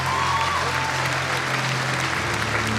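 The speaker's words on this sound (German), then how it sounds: "Jubeln Sie ihm noch mal zu." Continuous, loud crowd applause at the Horse of the Year 2025 announcement fills the hall, with a steady hum running underneath and faint voices mixed in.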